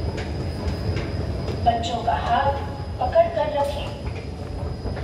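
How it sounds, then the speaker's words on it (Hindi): A metro train in Delhi fills the clip with a steady low rumble and brief squealing wheel tones. A person speaks over the noise. "बाय बाय मेट्रो, नेक्स्ट फिर आएंगे तो मिलेंगे"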